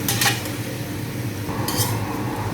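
Napa cabbage and vegetarian tofu are stir-fried in a pan, with a spatula clinking and scraping against the metal in two quick bursts over a low background sizzle.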